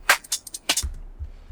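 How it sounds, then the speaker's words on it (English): A UK garage drum loop with crisp hi-hat and snare hits up front, followed by deep kick thumps in a sparse, swung pattern, played cleanly with no voices. "whereas a normal sort of garage loop would sound like this"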